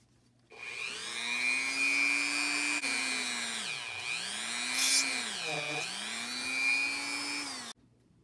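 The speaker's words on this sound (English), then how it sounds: "we want to drill a hole right in the middle of that." A power drill whirs steadily for several seconds, its pitch dipping twice as it bites into a part of a 1/8-scale Monogram Jaguar XKE model kit, then stops abruptly.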